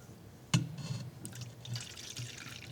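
Scalded milk is poured into a bowl for Ukrainian paska bread, a sudden splash followed by uneven trickling and dripping, close and fairly quiet, with no talk.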